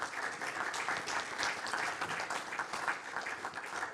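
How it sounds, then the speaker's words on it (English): Conference audience applauds the panelists after a keynote session, steady sustained clapping from a crowd at moderate level, filling the room evenly without speech. "We can give applause for all those guys"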